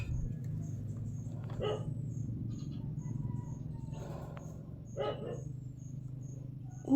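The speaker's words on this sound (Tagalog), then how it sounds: "Daming aso sa kalsada" Street dogs bark a few times at a distance, short separate bursts spread across the stretch over a steady low hum and faint insect-like chirping, no talk.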